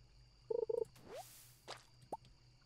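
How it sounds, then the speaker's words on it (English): Bubbling water spot in the Stardew Valley video game: a quick run of soft gurgling plops, then a few isolated bloops and a rising watery pop over a quiet game background, with no talking. "Why is that bit bubbling?"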